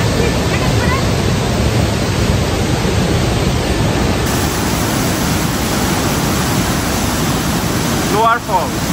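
Johnston Canyon's Lower Falls roar as a loud, continuous rush of water heard from close by, with a brief voice breaking through near the end.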